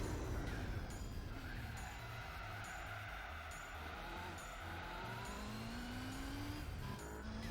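A ZZ2 race car in Gran Turismo 4 drones steadily at high revs for several seconds, a sustained racing engine with rising gear pitches and faint tyre noise, alone without talk.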